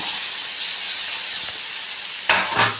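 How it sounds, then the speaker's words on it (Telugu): Masala-stuffed brinjals sizzle loudly in tomato curry in a pan, a steady close hiss of frying with a couple of soft stirring knocks near the end. "ఇప్పుడు మనం వంకాయలు వేసుకున్నాం మసాలా పెట్టుకున్న వంకాయలు"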